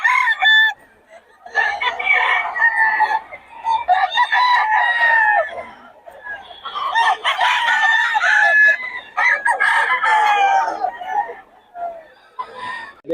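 Gamefowl roosters crow repeatedly among clucking chickens, loud and close in several overlapping bursts with short pauses between them.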